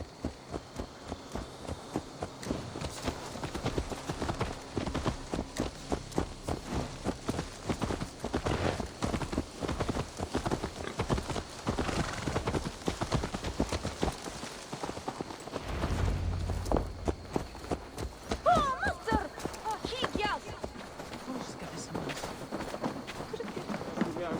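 Steady clip-clop of horse hooves walking in Assassin's Creed Valhalla, rhythmic and continuous, with game ambience and occasional faint voices in the background.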